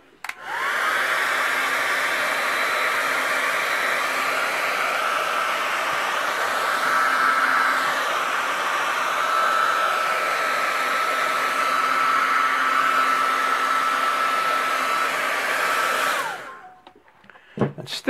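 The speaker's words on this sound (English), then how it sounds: "take the blow dryer" A blow dryer runs steadily and loudly up close for about sixteen seconds, drying paint on a reproduction deer antler, then shuts off with a few small clicks.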